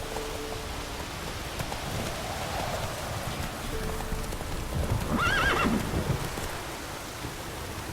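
A horse in The Witcher 3: Wild Hunt trots with steady clip-clopping hooves over a wet, rainy soundscape, and a single neigh breaks through near the end. No one speaks.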